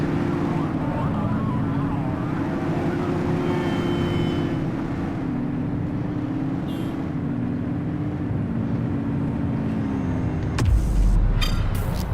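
A car engine in the video game The Precinct hums steadily, its pitch gently wavering while driving, then drops away with a sudden low thump near the end.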